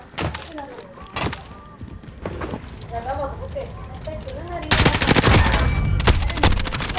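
Bursts of video game gunfire crack out in rapid volleys during a multiplayer match, loudest in a dense cluster near the end, with players talking over the shooting throughout.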